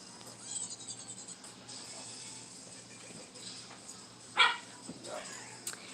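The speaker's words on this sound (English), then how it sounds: "as you just heard her bark" A pet dog gives a single sharp bark at a distance inside a home, short and moderately loud against a quiet indoor background with faint room noise.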